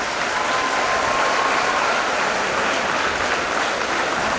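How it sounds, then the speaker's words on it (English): Audience applause at an Indian Independence Day celebration, a dense, steady roar of clapping from a large crowd that holds at full level from start to finish. "Can that clapping be a bit roaring?"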